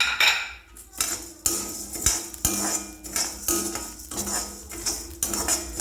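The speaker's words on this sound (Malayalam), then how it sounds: "ഇനി അതിലേക്ക് എള്ളിടാം എള്ളിട്ട് വറുക്കണം" Metallic scraping and clinking of a utensil against a pan while sesame seeds are dry-roasted, repeated in quick irregular strokes, close and fairly loud with no talking.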